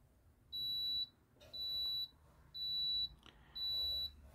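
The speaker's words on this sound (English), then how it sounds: "I don't know why the iron's beeping." A soldering iron used during a guitar X-brace repair gives four evenly spaced, steady high-pitched beeps, each about half a second long, over a quiet room hum.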